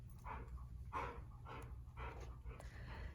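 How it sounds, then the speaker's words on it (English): A dog pants and huffs with low breathy vocal bursts in a quiet room, fairly faint and close, with no clear full barks. "He was staring at Charlie, baring his teeth and growling."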